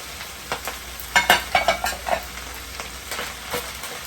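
Rice fries in a pan while eggs are stirred back through it over lowered heat, with a soft constant sizzle broken by a run of rhythmic scraping stirs near the middle, close by and without voices.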